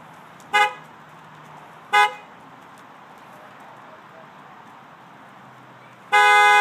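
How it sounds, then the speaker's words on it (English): Truck horn honks in short, loud bursts: two brief toots, then a longer sustained blast at the end, over steady low outdoor background rumble. "to see how he reacts to the honking of a horn."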